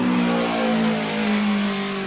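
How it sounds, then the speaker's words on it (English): A late-1960s MV Agusta motorcycle engine sounds steady and loud, with a smooth, sustained tone and strong harmonics throughout, close by and with no talking. "A nice old Augusta from the late 60s, I'd say."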